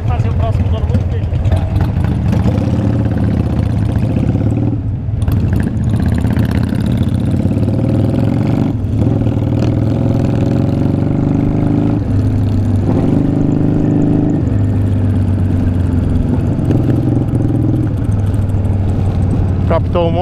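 A Yamaha Virago 535 motorcycle idles with a steady, low, even engine rumble throughout, while people talk over it nearby.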